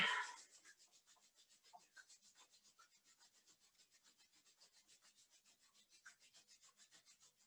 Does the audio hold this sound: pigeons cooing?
no